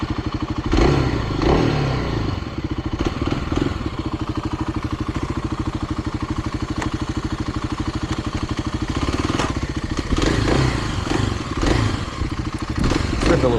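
Kawasaki motorcycle pulling away with a short burnout, its engine loud and close with a rough, throbbing idle-to-rev drone, scraping and clattering over it, steady throughout.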